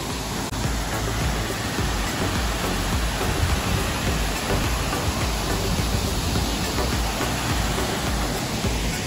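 Steady, dense roar of waterfalls on the Jaguaricatu river, a continuous broadband rush of falling water that stays loud and unbroken throughout, with no voices over it.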